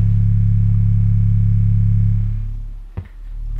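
A steady 35 Hz sub-bass test tone plays loudly from a Zylux RCA TV, holding a constant deep hum before fading out near the end, followed by a brief thump.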